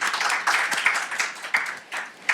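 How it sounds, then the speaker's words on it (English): Audience at the 27th Arthur Ashe Memorial Lecture in 2019 applauding, a dense wash of many hands clapping that swells and dips in uneven waves without pause. "I think we need to give ourselves an applause and give all of you an applause for that"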